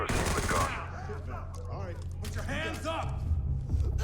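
Gunfire bursts from the tactical shooter game Ready or Not ring out amid overlapping voices, with sharp shots and rapid fusillade-like cracks mixed under talk and a steady low hum throughout.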